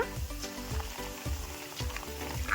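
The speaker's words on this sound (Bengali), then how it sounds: "সুন্দরভাবে আদা আর রসুনটা ভালো করে একটু ভেজে নেব" Ginger and garlic paste frying with browned onions, cardamom and cinnamon for chicken rezala, a steady close sizzle with a few soft stirring scrapes and a faint tonal hum behind, no voices.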